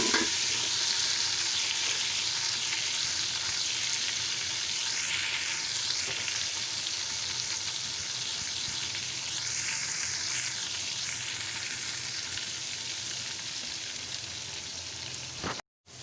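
Garlic ginger paste fries in hot ghee, giving a steady, dense sizzle and crackle that hold evenly throughout with no voices, then stop abruptly at the end.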